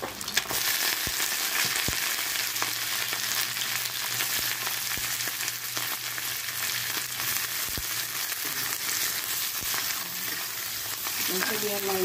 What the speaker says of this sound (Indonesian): baru kita masukkan telurnya dan kita orak-arik